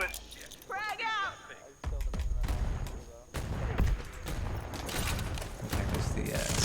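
A frag grenade exploding in Predator Hunting Grounds, a loud deep blast with rumbling aftermath mixed among sharp gunfire cracks and game effects, with someone talking briefly.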